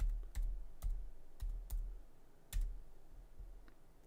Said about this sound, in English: I'm going to type in my super secret password